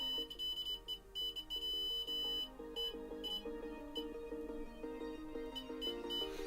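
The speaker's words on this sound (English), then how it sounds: "Can you hear the buzzer?" A Siglent SDM3045X bench multimeter set to continuity gives short, high, faint beeps in repeated bursts, over a steady mix of lower tones.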